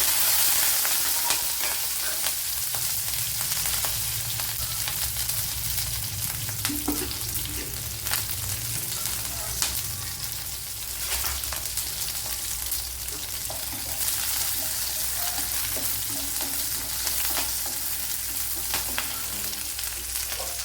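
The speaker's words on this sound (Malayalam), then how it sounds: "ഇപ്പോഴിവിടെ കടുക് പൊട്ടിയിട്ടുണ്ട്, അതിലേക്ക് ഇനി വെളുത്തുള്ളി ഇട്ട് കൊടുക്കുക." Mustard seeds, garlic and green and dried chillies fry in hot oil for a Kerala-style ashgourd thoran, a steady close sizzle and crackle with occasional stirring scrapes and spoon taps, no voices.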